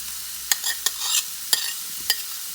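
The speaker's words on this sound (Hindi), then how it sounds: "और इसको 1 से 2 मिनट के लिए फ्राई करेंगे।" Tomatoes, garlic, salt, oregano and black pepper fry in a pan for bread pizza pockets. A soft, airy sizzle runs under a few sharp spoon clicks as the mixture is stirred, fairly quiet and with no talking.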